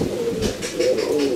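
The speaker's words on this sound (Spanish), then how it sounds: "Es una pichona, se le echó el palomo para que pusiera los primeros huevos la paloma." A young female racing pigeon in a breeding loft coos in soft, throaty, repeated pulses, close and fairly loud.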